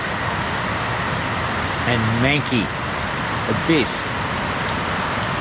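Heavy rain pours steadily on a hot, humid afternoon as outdoor automatic lights come on, a dense continuous hiss filling the scene while someone talks over it.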